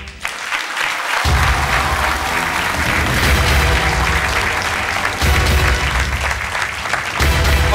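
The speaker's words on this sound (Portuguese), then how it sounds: "Vosso aplauso para o Nuno Topa." Loud, dense applause from a television game show studio audience welcoming a contestant, rolling steadily for about eight seconds with no talk over it.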